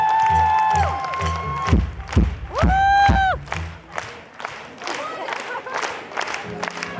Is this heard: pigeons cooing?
no